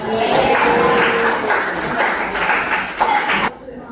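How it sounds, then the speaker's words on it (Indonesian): Students in a microteaching classroom session clap together for several seconds amid chatter and a chuckle, the clapping cutting off abruptly near the end. "kita harus tepuk tangan"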